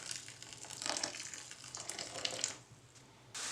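Soaked vermicelli being drained of its hot water, a soft steady rush and splash of pouring liquid that swells, eases and then resumes, fairly faint and heard alone.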